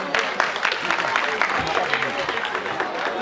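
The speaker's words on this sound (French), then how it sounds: "On l'applaudit bien fort." A school audience at a Christmas show claps after a child's poem recital, a dense patter of hands from a nearby crowd that carries on steadily, with some chatter mixed in.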